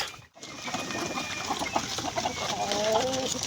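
White Leghorn and abuhin (grey heritage) hens and a rooster on a breeding farm cluck and murmur nearby, with scattered calls rising toward the end.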